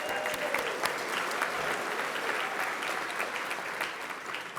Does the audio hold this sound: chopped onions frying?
no